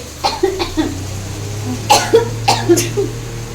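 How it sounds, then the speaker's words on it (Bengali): Someone coughs from cooking smoke in a home kitchen: a quick run of three harsh coughs, a pause, then a louder cluster of about five close, sharp coughs. "ধোঁয়ায় কাশি হয়ে যাচ্ছে।"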